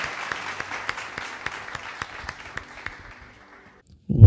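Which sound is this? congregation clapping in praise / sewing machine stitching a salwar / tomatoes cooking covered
congregation clapping in praise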